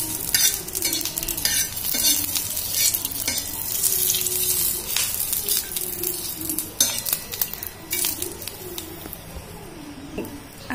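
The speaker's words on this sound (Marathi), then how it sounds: "आता आपण छान आपले हे मसाले भाजलेले आहेत" Green chilies and spices roast in a pan with a continuous crackling sizzle and repeated sharp spatula scrapes, while a pigeon coos softly in the background.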